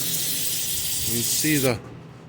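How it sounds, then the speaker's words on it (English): An aerosol can of carb cleaner hisses steadily onto an Echo CS-303T chainsaw's air filter, a loud close spray that cuts off abruptly, while someone speaks briefly over it. "I use some carb cleaner and I spray it down really good"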